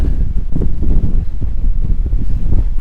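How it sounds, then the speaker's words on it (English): Strong gusting wind of around 50 miles an hour buffets the microphone in heavy, rumbling bursts on a rocky desert mountain route in Big Bend National Park, loud and close, with no other sounds breaking through. "Fighting 50-mile-an-hour winds."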